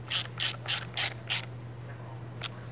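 Screws being tightened into plastic during a blower motor replacement on a 2003–2014 Volvo XC90, giving five quick evenly spaced ratcheting bursts followed by a single later click, close and fairly quiet over a steady low hum.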